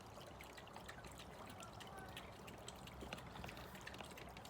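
Water trickles and splashes steadily as a pressurised pond filter is refilled outdoors, a continuous, fairly quiet babble with small bright drips throughout.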